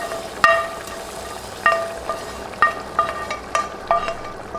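Hot onion-garlic tempering added to simmering tomato sauce, with sharp sizzling bursts and clinking stirs recurring close and moderately loud over a low, steady background hiss.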